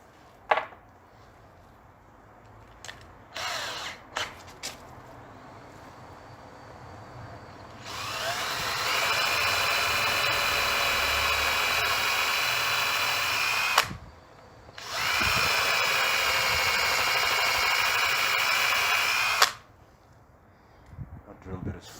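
A power drill bores into an old oak cheese board with a worn drill bit, two sustained whining bursts of several seconds each separated by a short pause, loud and close, with brief clatter and handling noises before and after.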